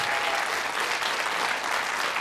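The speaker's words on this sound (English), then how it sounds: "a round of applause, please, for Harry and Kelly" A studio audience on a 1994 ITV quiz show applauds contestants, a thick, even wash of clapping held at steady volume throughout.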